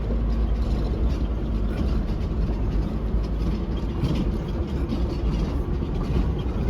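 A four-wheel-drive vehicle grinding uphill in low range gear, its engine note heavy and constant with a steady low rumble that does not let up.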